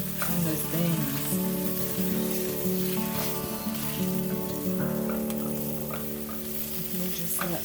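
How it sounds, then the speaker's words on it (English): Green beans with lemon pepper sizzle and simmer in a pan, a steady close crackle with soft stirring sounds throughout. "Put it on simmer and let that just coat all in on those beans"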